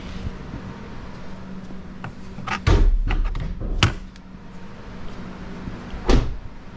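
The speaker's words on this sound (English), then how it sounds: "It opens like normal." A car hood fitted with new aftermarket gas struts is lifted open, giving a few clunks and a louder pop as it releases, followed by a soft thud, over steady outdoor background hum.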